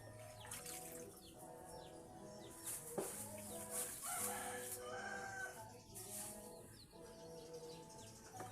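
A thin native chicken in the Philippines clucks and calls repeatedly, fairly close, over soft background noise and other faint bird sounds.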